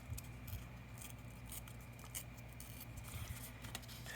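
Paper being snipped with scissors while assembling a handmade Victorian ladies' journal, a faint steady rustle of light cuts and patter close by with a low background hum, no talking.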